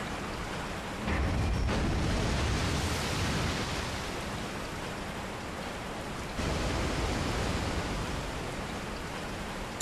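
A steady waterfall roars in the Resident Evil 4 VR video game, a dense broadband rush of falling water that holds at constant loudness for about ten seconds, with no speech.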